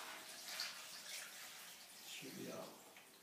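Water is poured into a blender holding mint and spinach for soup, making a soft, steady, quiet splashing rush.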